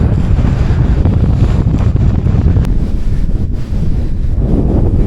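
Wind buffeting the microphone during a bicycle ride along field paths, a loud continuous roaring rumble with gusty fluctuations, heard alone without speech.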